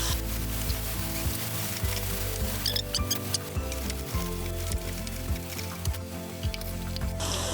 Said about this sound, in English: Saute until it's turned to brown and soft.